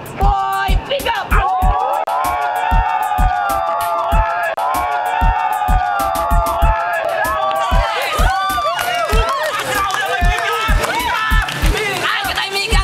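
A crowd cheers and shouts to pick the winner at a parody pick-up lines battle comedy show. The noise is loud and continuous, with a steady thumping beat underneath.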